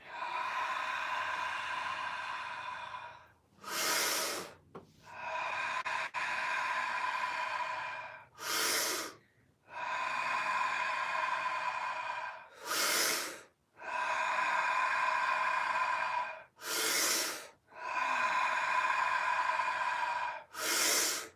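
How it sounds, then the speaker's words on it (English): Deep breathing exercise: long, loud hissing inhales and exhales through the mouth at close range, each lasting several seconds, broken by short sharp gasps in a repeating cycle, with no talking. "And inhale deeply again."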